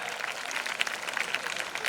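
Audience at a school ceremony honouring the top three students of a preliminary exam applauds steadily, a dense wash of clapping hands throughout, fairly distant and even.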